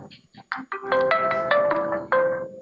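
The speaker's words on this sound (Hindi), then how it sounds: "किसका फोन बजा?" A mobile phone ringtone rings out indoors during a theology class, a bright melodic phrase of repeated tones, loud and close, following brief quiet speech at the start.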